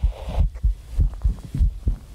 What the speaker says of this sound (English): You hear something like a heartbeat.